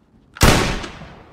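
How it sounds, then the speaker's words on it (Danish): A single rifle gunshot at Danish army shooting practice cracks out sharply after a brief quiet, then its echo decays over about a second in the open range. "afgiv et skud"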